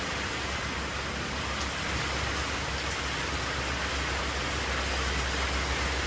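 Steady rain falling on a rooftop garden, a dense, even hiss of drops with a few faint louder drips, continuous and fairly close throughout with no voices.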